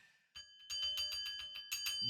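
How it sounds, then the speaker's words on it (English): A bell rings repeatedly in quick bright strikes with sustained ringing tones, loud and close, with some voices underneath. "Ringing that bell."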